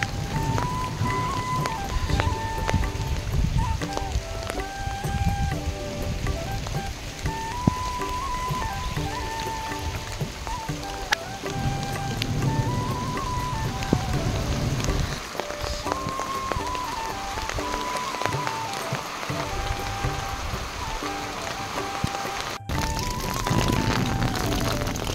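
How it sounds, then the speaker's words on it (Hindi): Steady rain falls on a village in Uttarakhand, a continuous dense patter on surfaces with a thin melodic tone running through it and no talk. "तो इस गांव में पहुंचने के बाद आ गई है बारिश"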